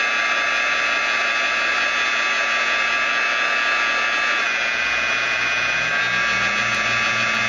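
Dense, bright hissing and crackling sizzle of bubbling paint from a naturally aged peeled-paint system fills the whole clip continuously, with a low droning undertone, loud and close, no voices.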